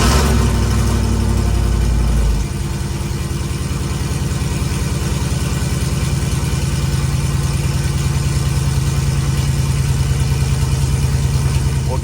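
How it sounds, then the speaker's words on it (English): Car engine with an open 3-inch exhaust turn-down cranks and fires on its first startup, a loud heavy roar settling into a steady, rough, throbbing idle, close by with no talking. "So currently it's just got a 3-inch turn down."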